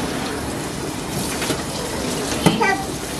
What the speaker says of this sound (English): I'm just gonna go ahead and give this another rinse